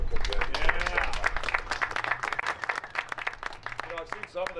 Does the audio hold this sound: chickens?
no